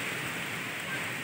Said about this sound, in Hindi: देखिए दोस्तों, देखिए कितना बारिश आ रहा है।